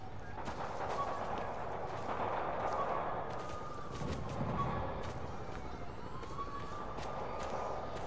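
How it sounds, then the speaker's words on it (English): Distant gunfire and wailing police sirens in the open city of the Spider-Man PS4 game, a busy urban wash with sirens sweeping up and down beneath scattered pops of shots. "I can hear all those gunshots."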